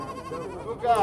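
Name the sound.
sheep bleating at a livestock market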